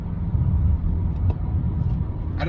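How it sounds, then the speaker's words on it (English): A BMW 435i exhaust burbling while driving, a loud, steady low rumble with a faint crackle near the end, heard from inside the car. "I don't know if you guys can hear the burbles from the car, but they are absolutely amazing"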